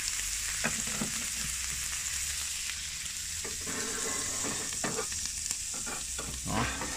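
Steak sizzles and spits loudly inside an Ooni Koda pizza oven, a dense continuous frying hiss with scattered crackles and pops throughout.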